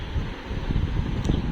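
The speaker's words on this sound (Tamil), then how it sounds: "செம காற்றடிக்குது, கதவை கூட போட்ட முடியல." Strong wind blows outdoors by a house door, a loud, steady rumbling rush buffeting the microphone with gusty low-end swells, close and constant, with no voices.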